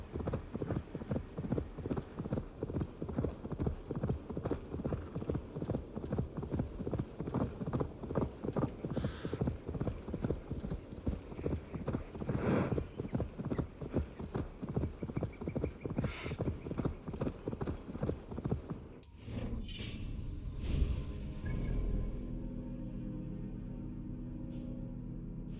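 Horse hooves gallop in rapid, rhythmic clip-clop beats in Assassin's Creed Valhalla, steady and close for most of the stretch before slowing and fading out, with faint game ambience after.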